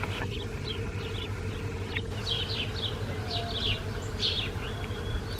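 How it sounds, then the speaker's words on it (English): Honeybees buzz beneath a redbud tree in a garden, a continuous low drone from many insects under steady outdoor ambience, with bird chirps above it. "Can you hear the honeybees?"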